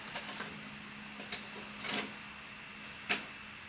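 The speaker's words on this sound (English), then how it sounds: "I'm just going to put my sticker paper inside my printer with the shiny side up" Sticker paper is fed into a home printer, giving a few quiet mechanical clicks, a soft slide and a brief rustle, then a sharper click near the end over a faint steady hum.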